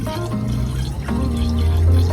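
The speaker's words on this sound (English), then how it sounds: "I'm just going to pour water into the pump" Water poured into a water pump during a villa plumbing renovation in Zakynthos, a close, loud, continuous gurgling pour with rising tonal resonance as the pump fills.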